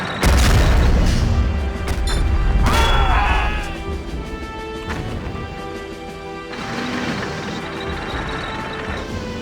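Mortar and artillery fire in the World War II strategy game Blitzkrieg, with a loud opening boom followed by further crashing impacts and rumbling blasts that fade into a lower background of distant battle noise.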